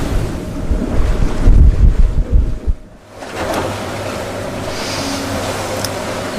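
Strong wind buffets a sailboat at sea in the Malacca Strait, with gusting microphone rumble and rushing water that dips briefly, then settles into a steady hiss of wind and waves with a low drone underneath.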